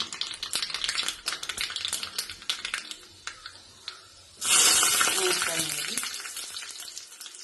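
Mustard seeds splutter in hot coconut oil for a pineapple and beetroot pachadi. A busy crackling sizzle plays under some voice, then bursts into a loud, steady frying hiss halfway through.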